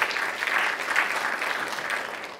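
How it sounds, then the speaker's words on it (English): A room full of people claps steadily, a dense, even burst of applause that continues without a break. "it is worth a round of applause."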